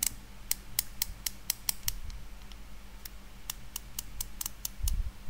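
Aperture ring on a manual-focus camera lens turns through its stops, producing a series of crisp, close, quiet clicks in two quick runs separated by a short pause, over a low hiss and with no talking.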